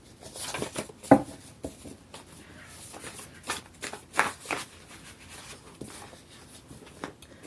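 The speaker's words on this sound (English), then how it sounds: "I really get better at my shuffling." Playing cards being shuffled in quick riffling bursts, close and fairly quiet, with a few sharper snaps among the soft shuffling.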